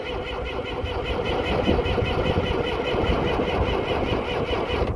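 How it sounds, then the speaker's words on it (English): A cold Cummins diesel engine on a corn harvester cranks steadily without catching, giving a continuous, loud, churning starter-and-engine drone that holds evenly for the whole stretch. "Cummins were supposed to be good starting engines."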